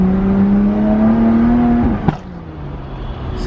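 A BMW F80 M3 with an equal-length resonated mid pipe and its exhaust valves open drones loud and close, the pitch climbing steadily, then a sharp pop as revs drop to a quieter idle.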